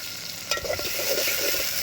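Onions and green chillies fry in oil with mustard and cumin seeds for a mutton curry, giving a steady close sizzle with a brief stirring scrape midway.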